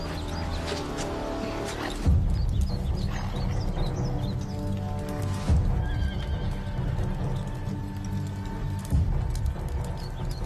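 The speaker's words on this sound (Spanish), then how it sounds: "Trae mi caballo." Horse in a dramatized Roman battle scene of Spartacus's rebellion neighing repeatedly while hooves clip-clop, loud and close, with several whinnies over a busy background of rustling and birds.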